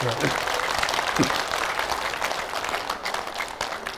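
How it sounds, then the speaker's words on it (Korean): Audience applause at a constituency report meeting held by a National Assembly member in Yeongju, a steady broadband patter of clapping with a low voice briefly rising over it near the start. "자꾸 박수 치면 계속 오래 합니다."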